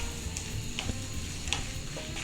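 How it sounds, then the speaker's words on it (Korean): Potatoes fry in olive oil in a pan over low heat for a Spanish tortilla, producing a steady, moderate sizzle with a few faint ticks and pops, alone and without talking. "올리브에 충분히 볶아주세요."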